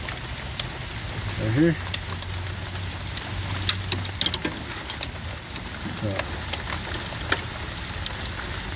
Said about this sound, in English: I'm getting wet as hell right now because it's raining.